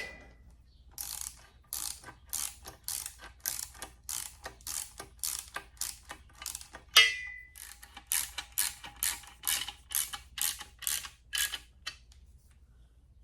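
Bolts are threaded by hand ratchet into a clutch pressure plate on a flywheel, a long string of quick, evenly spaced ratcheting clicks in bursts with a brief pause midway, close and unaccompanied by speech.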